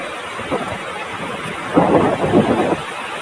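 Sea waves wash in at an empty, chilly beach, a broad soft hiss with a couple of fuller surges rolling through midway.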